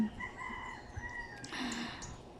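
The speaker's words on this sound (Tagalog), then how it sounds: "mga huni ng mga manok at saka langgam" Chickens cluck and a rooster crows faintly in the distance, with soft bird calls over a quiet outdoor background.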